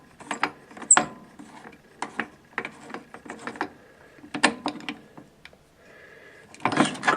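Rocker arms spun out on an old Mansfield film editor, producing a series of close clicks, clacks and rattling mechanical knocks in uneven bursts, ending with a louder clattering spin.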